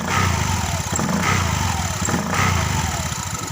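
A Honda Beat ESP scooter with a rebuilt CVT, its small engine revving in steady close bursts, rising and falling over a buzzing mechanical drone with no talk.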